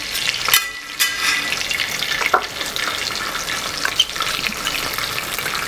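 Cumin and mustard seeds fry in hot oil in a pan, crackling and sizzling continuously up close with a few sharper pops and spoon clinks, no talking.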